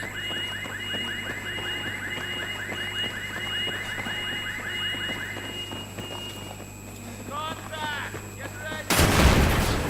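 Gunfire and combat sounds from Battlefield 3 crackle over a steady mechanical drone, with rapid repeated shots early on, scattered bursts later and a loud blast near the end.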